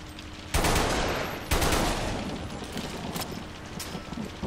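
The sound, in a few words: gunfire from rifle in video game Bodycount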